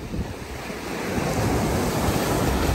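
Ocean waves at the seaside in Da Nang, a continuous roar of surf washing in close, mixed with gusting wind buffeting the microphone.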